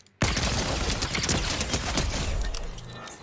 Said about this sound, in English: let's do the TTK at 20 meters out with a blue tactical pistol